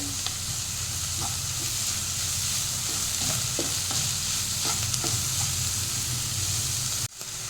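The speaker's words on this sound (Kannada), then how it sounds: "ಈರುಳ್ಳಿ ಬೇಗ ಫ್ರೈ ಆಗುತ್ತೆ ಉಪ್ಪು ಹಾಕ್ಕೊಂಡ್ರೆ" Onions fry with a spoonful of salt in a pan for egg chilli, a steady close sizzle with light stirring scrapes throughout, ending in a brief knock near the end.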